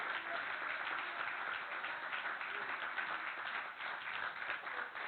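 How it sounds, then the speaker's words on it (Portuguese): A church congregation applauds during a family service, a sustained wash of clapping from many hands heard from a distance, thin and muffled, with a voice talking over it. "Aplauda ao Senhor, glorifique a Ele"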